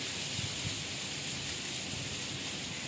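Strings of small festive flags and large flags hung outdoors for Pakistan's Independence Day flutter in strong wind, producing a constant dense rushing, rustling wash with soft low buffeting, steady and without pauses.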